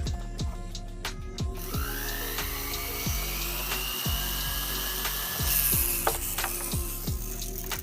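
Jewelry-making tools being sharpened on a small rotary power tool, a steady high whining grind with rhythmic pulsing bursts and a brief change in pitch partway through, close and continuous, with no talk.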